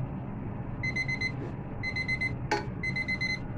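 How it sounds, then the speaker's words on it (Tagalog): An alarm clock rings in a kitchen during lasagna cooking, sending out short bursts of rapid high beeps in repeating groups, fairly faint, with a clatter partway through. "wait ng ating alarm"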